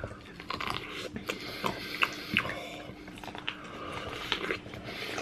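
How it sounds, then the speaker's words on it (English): Someone bites and chews heavily peppered, crunchy food, with a rapid series of close, sharp crunches and crackles over several seconds. "Now, listen to this crunch. It's gonna be epic."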